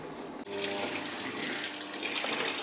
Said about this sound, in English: Now after the intense spin, it is followed by the wash and rinse cycle.